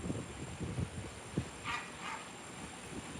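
A dog barks a few times in the background, short yips and woofs scattered through the clip at a moderate distance, with no talk over them.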